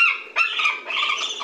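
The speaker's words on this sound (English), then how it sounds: "There's an eagle call that we recorded at the Raptor Center." Eagle call recorded at a raptor center: a single shrill, squawking cry with a rising onset and a second harsher burst, heard up close and alone for about a second and a half.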